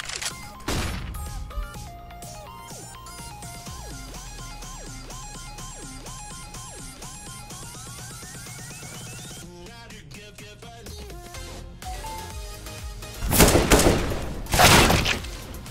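Counter-Strike match play: a flashbang grenade is thrown amid busy game sounds, with layered tones and clicks, a sharp burst early on and loud crashing blasts near the end.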